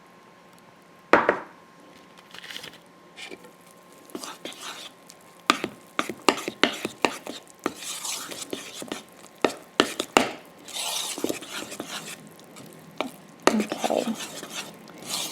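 Buttermilk pancake batter made from mix with added oil is stirred in a bowl, producing irregular clattering scrapes and knocks of a utensil against the bowl in short bursts, with a brief spoken word near the start.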